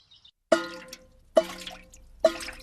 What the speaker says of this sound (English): Look, it is going drippity drip.